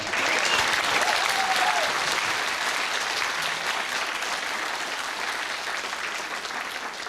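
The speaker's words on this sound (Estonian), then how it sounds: "Teeme veel ühe suure aplausi sellele imelisele esitlusele." An audience at a school graduation ceremony for ninth-grade classes breaks into loud, dense applause that continues steadily and eases off slightly toward the end.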